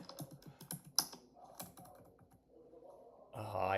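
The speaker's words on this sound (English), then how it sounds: "I'm typing this out" Quick, irregular clicking of keys being typed on a computer keyboard, fairly quiet and close, trailing off into a louder noisy burst at the end.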